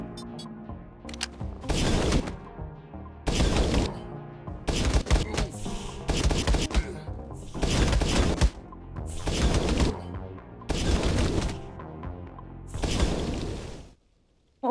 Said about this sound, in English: they're all exploding.